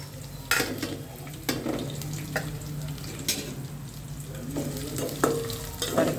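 Dried red chillies fry in a pan with a soft, steady sizzle, broken by a few sharp stirring clatters and scrapes of a spoon against the metal.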